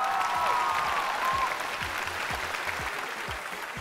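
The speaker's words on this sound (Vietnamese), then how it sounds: "Xin một tràng pháo tay thật nồng nhiệt thưa quý vị." A TV show studio audience applauds warmly after an opening dance act, with a broad, steady wash of clapping and a low rhythmic music beat pulsing underneath.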